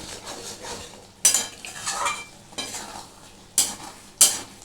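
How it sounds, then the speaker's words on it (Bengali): Mutton keema being stirred and fried in a pan, with a steady soft sizzle beneath sharp, intermittent metallic scrapes and clanks of a spatula against the pan, close and clear. "এইটাকে একটু ভালো করে কষবো কারণ এর থেকে তেল ছেড়ে বেরিয়ে না আসা পর্যন্ত এটা আমাকে কষতে হবে"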